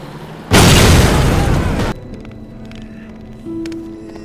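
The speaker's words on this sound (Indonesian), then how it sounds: "ledakannya sangat besar" Landmine blast under a military vehicle in a World War II setting, one sudden heavy explosion with a roaring rumble lasting over a second, then dropping to a low background with a faint hum.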